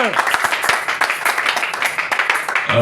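A church congregation claps and applauds in praise of Jesus Christ, a dense, steady roar of many hands with cheering voices mixed in, loud and close throughout.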